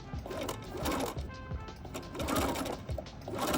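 Sewing machine crimp stitching around the neckline of a bias-cut dress, close and moderately loud, running in uneven bursts with brief slowdowns as the fabric is gathered.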